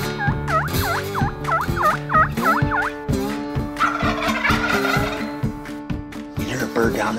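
Wild turkey gobbling in repeated rapid bursts, loud and close, over a backdrop of music and mixed sounds.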